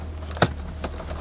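The cup holder of a 1990 BMW 325iX opens with a single sharp plastic click, followed by a couple of softer clicks and light rattles, close up inside the car's quiet interior.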